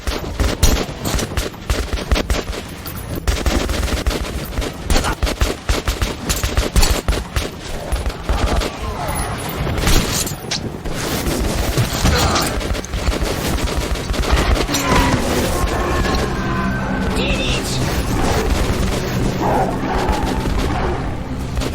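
Gunfire in the video game Metro 2033 Redux rattles on without a break, with dense automatic bursts and booms filling the whole stretch. It stays loud and close throughout.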